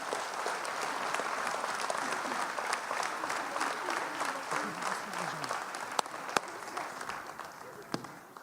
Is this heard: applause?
yes